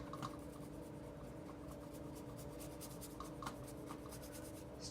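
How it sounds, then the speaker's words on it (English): A slightly damp paintbrush dry-brushes cobalt violet paint in a scratchy style, giving faint, soft, repeated rubbing strokes at a steady rhythm over a quiet background hum. "I'm going for kind of like a scratchy dry brush look."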